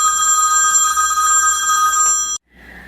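Telephone ringing loudly with a continuous electronic trill that stops abruptly, leaving faint room noise afterward.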